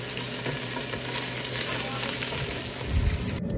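Beef searing in olive oil in a pan for homemade soup, a loud continuous sizzle close up, with a stirring scrape and a heavier thump near the end.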